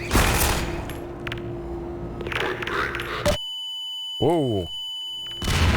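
Grenades detonate in Half-Life 2 played in VR, with a series of loud, close booms and crackling blasts, then a sudden drop to near silence broken by electronic ringing and beeps. A man exclaims briefly.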